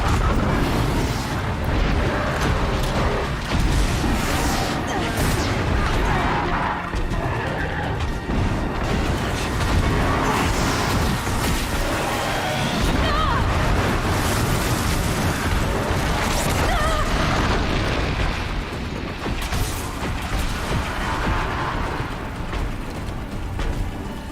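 A huge machine boss in Horizon Zero Dawn blasts fire in a long, roaring, crashing barrage, dense and loud throughout with bursts and whooshes swelling and overlapping, no pauses.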